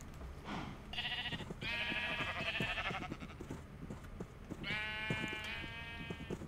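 Sheep in Minecraft bleat repeatedly at close range: a run of harmonic, wavering baas with short gaps, alone, with no talking over them.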